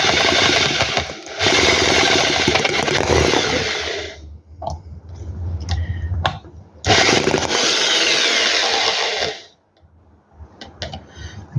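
A tiny 4.2cc 1/5 scale Harley R33 Evolution V-twin hobby gas engine buzzes in loud raspy bursts, two sustained runs separated by a sputtering pause, recorded up close and ending in near silence.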